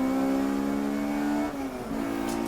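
A VW Polo Turbo race car at Brands Hatch screams at high revs, loud and steady, then its pitch drops briefly through a gear change before climbing again.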